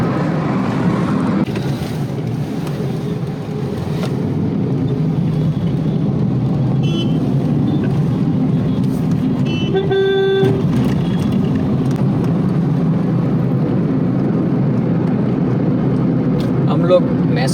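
Morning road traffic in Mehsana hums and rumbles steadily, with passing vehicles, a brief horn-like tone midway and some talking over the continuous road noise.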